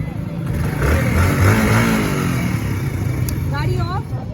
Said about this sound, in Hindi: गाड़ी मेरी ऑन है